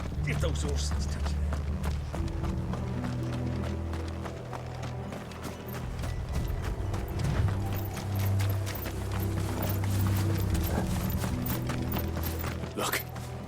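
Horses gallop in the video game Final Fantasy XVI, with rapid hoofbeats that pound steadily and fairly close throughout, over a low droning score while people speak.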